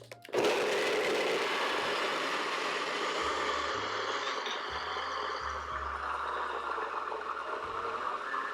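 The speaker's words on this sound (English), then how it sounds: "So I'm just going to put this in my NutriBullet and get the dates all chopped up and just blend this until the whole mixture starts clumping together." A NutriBullet blender chops dates for a vegan chocolate peanut butter cheesecake, starting abruptly and whirring loudly and continuously while its motor pitch dips and shifts as the mixture clumps.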